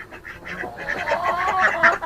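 A mother duck sitting on a nest of eight eggs gives a few close, raspy quacks in a quick series over a couple of seconds, loud and alone without any talk.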